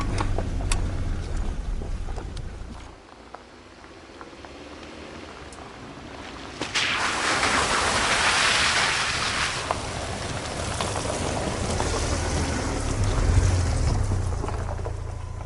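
A vehicle creeping along a rutted dirt trail in two-wheel drive, a steady low engine and tyre rumble with buffeting wind noise that swells louder midway and stays rough to the end.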